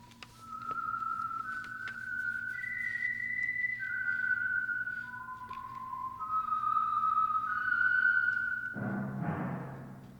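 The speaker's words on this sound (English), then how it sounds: "That whistle is your signal for the Signal Oil Program, The Whistler." The famous whistled theme of the radio program The Whistler, a lone melodic whistle gliding through a slow, eerie sequence of sustained notes over faint background hiss, ending with a brief swell of other sound.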